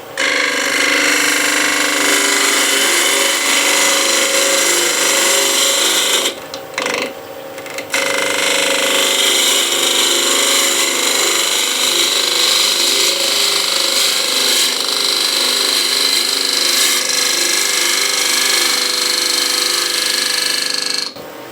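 A wood lathe gouge cuts into a spinning bowl, a loud continuous scraping hiss with a steady hum, pausing briefly midway before the cut resumes, with no talk.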